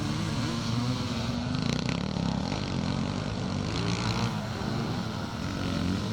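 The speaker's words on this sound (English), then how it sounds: "I think that's Richard Mason, who looks like he's riding one of those big 500 CR Husqvarna bikes" Vintage motorcycles, among them big 500 CR Husqvarna and XR500 Honda bikes, roar past in a scramble race at Westmoreland, with loud, continuous engine drone and throttle surges close by.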